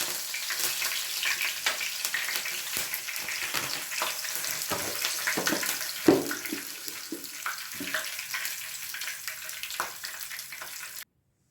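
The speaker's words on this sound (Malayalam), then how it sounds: "നമുക്ക് കറിവേപ്പിൻ്റെ ഇല ഫ്രൈ ചെയ്തെടുക്കാം" Curry leaves frying in hot oil for paneer 65, a steady sizzling crackle with scattered sharp pops and spits, moderately close and continuous until it abruptly stops.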